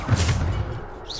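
A Bombarda explosion spell detonates in the video game Hogwarts Legacy, one short heavy boom that fades out within a second.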